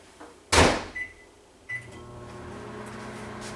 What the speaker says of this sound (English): You can pop it in the microwave for 5 seconds or so.